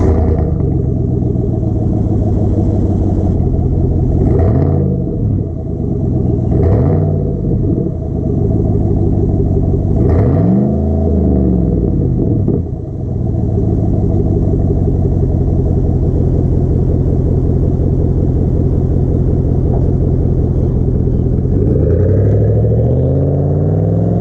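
A 2020 Chevy 1500 truck with a 5.3L V8 and a new double-tip exhaust idles with a deep, loud rumble, then revs sharply about four times, each rev rising and falling back to a burbling idle.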